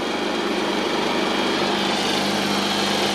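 Kymco Super8 4T four-stroke scooter with carburettor and kickstarter problems, its small engine running steadily close by with a loud, buzzing, even drone.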